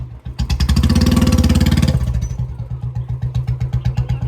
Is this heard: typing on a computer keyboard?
no